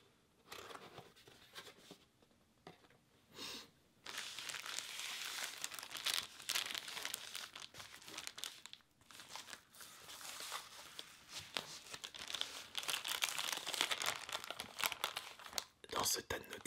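Paper Nintendo 3DS XL manuals and a Club Nintendo leaflet crinkling and rustling up close in soft, irregular bursts, with a few quiet pauses, in a close-up ASMR setting and no clear talking.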